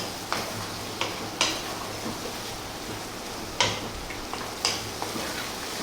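Butter chicken being stirred and mixed in a pan: a low, continuous sizzle with occasional sharp taps and scrapes of the spoon against the pan, close and moderately loud.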